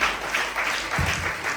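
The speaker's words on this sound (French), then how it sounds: "Est-ce qu'on peut les accueillir et les applaudir?" A church congregation claps together at an evangelist's ordination service, a brief, dense burst of applause from the crowd in the hall.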